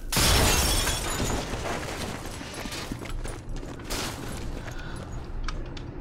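In the video game Sniper Elite 4, a tripwire mine detonates: a loud blast with shattering debris opens the clip, then a dense, noisy rumble of crackling and clatter continues and slowly thins out.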